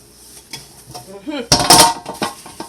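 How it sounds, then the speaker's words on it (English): A cooking pot crusted with burnt pelau bottom is scrubbed and washed with a sponge, with close metallic clanks and scraping that swell into a loud burst of rubbing and knocking. "This is how to wash your pot after you cook your pilau and you have bun bun in the pot."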